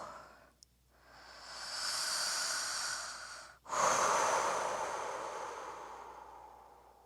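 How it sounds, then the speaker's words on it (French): Deep, slow breaths during a gentle morning yoga session, close and breathy, with a long airy inhale followed after a brief pause by a fuller exhale that fades away gradually. "On respire profondément, on essaye d'amener le souffle au niveau du ventre à nouveau."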